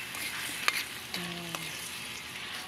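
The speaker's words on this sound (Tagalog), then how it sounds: "Masangkutsin na natin ang sayote." Chayote sautés in a pan for chicken tinola, with a soft, quiet sizzle and a few light spatula scrapes and taps against the pan.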